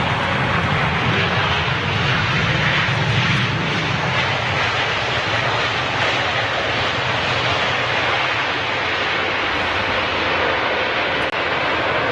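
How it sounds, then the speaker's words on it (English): A Boeing Dreamliner jet airliner at Heathrow airport gives a loud, continuous roar of engines that holds steady and alone for the whole stretch, with no voices over it. "Bimmen's Dreamliner."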